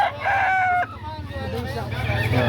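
A rooster crows at a Saturday chicken market in Lipa City, Batangas, a sustained call near the start that breaks off, followed by the steady hum of market chatter and other birds.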